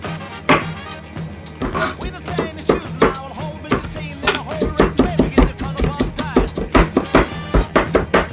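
A knife chops garlic on a cutting board in a home kitchen while meatballs are being made, a run of quick, close, crisp knocks that speeds into a steady rhythm, with a voice talking between the strokes.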